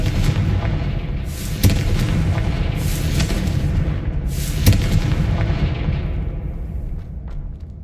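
A Confringo fire spell in Hogwarts Legacy detonates in loud booming blasts, two sharp explosive hits among a rolling roar that fades toward the end.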